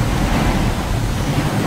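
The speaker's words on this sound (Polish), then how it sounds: "Ta woda się leje nam." Flowing water in the Harry Potter and the Goblet of Fire video game, a steady loud rushing wash with no pauses, heard alone.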